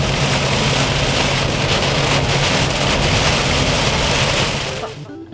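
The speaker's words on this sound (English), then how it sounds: "let's hope it quits raining" Rain drums hard and continuously on a truck camper during an overnight camping stop, a loud dense roar close by that fades away at the very end.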